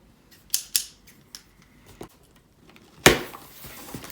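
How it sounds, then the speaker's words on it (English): A Degustabox mystery food parcel is torn open up close with a few sharp tearing and snapping bursts, scattered rustles between them, then a final loud rip near the end, with no voices. "we're just going to tear into it and see what is inside this month's mystery parcel."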